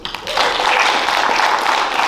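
Audience applause at an oratorical contest, a broad steady wash of clapping from a crowd after an onstage introduction, sustained at even loudness with no gaps.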